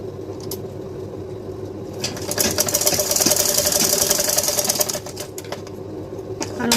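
A sewing machine stitches a lehenga blouse, its needle rattling in a fast, steady whir that swells louder for a couple of seconds mid-run, then settles back to a lighter hum.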